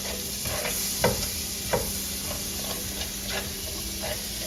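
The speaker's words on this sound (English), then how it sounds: "add about half a tablespoon of butter. You're gonna just let that melt a little bit" Half a tablespoon of butter melting in a hot pan, a soft steady sizzle and hiss with a few light clinks from a utensil, close up and without talk.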